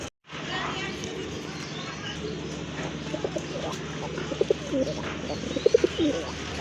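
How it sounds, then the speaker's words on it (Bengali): Red khaki pigeons, including a male, cooing in a pen at a pigeon sale, with soft repeated coos rising over a steady background of voices and bird noise. "খুবই চমৎকার একটা নর কবুতর। এটা কিন্তু লাল খাকি কবুতর।"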